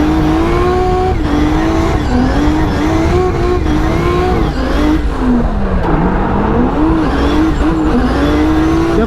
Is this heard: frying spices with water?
no